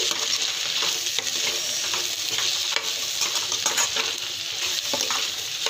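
Chili powder fries in a nonstick pan with a constant dense sizzle and occasional light taps and scrapes of a spoon, close and fairly loud.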